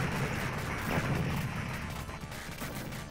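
Dense, continuous rattling gunfire from an enemy statue spraying bullets in the arcade shoot-'em-up Raiden, a busy layered barrage of game sound effects with no pauses and no voices.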